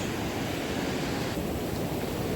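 Beach surf churns around a wading angler, producing a constant loud wash of breaking water blended with wind buffeting the microphone, steady for the whole stretch with no speech.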